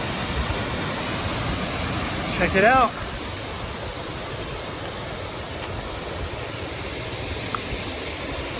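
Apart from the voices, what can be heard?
Quina Falls waterfall on the Columbia River Gorge near Portland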